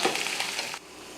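Chana dal, ginger, green chilies, asafoetida and curry leaves crackle in hot oil for a tempering, a brief bright sizzle that cuts off abruptly to near silence.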